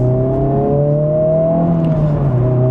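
Honda Civic Type R FL5 with a 315-horsepower engine pulling in second gear, a steady muted engine drone with rising harmonics from inside the cabin, continuous and fairly quiet.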